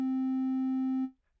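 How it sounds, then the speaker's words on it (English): A steady, bright synthesizer triangle-wave tone holds for about a second at a constant pitch, then cuts off, leaving near silence. "Next up, we have a triangle wave."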